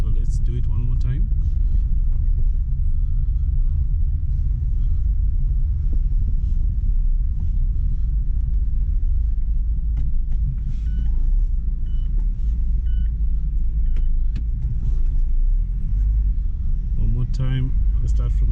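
A Mazda CX-5 with a cooling problem accelerates weakly, its engine a low, steady rumble with road noise throughout as someone talks over it.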